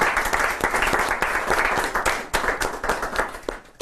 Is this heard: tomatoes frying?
no